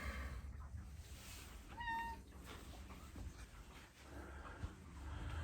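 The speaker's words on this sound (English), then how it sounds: "over here, why, it's Ambrose the cat" A house cat gives one short, clear meow close by, set against a quiet indoor room hum.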